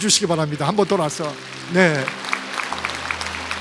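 A standing church congregation claps, their broad, steady applause swelling beneath a pastor's spoken words and then carrying on alone as he falls quiet.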